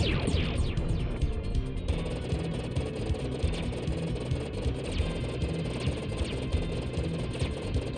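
Enemy gunfire in the Super Nintendo-style action game Contra III: The Alien Wars, heard as busy electronic game noise with rapid repeated shot bursts and blasts over a droning background, continuous and fairly quiet, with no voice.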